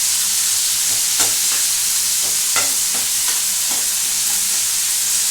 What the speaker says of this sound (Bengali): এবার এই পেঁয়াজটা একদিকে একটু ভাজা হবে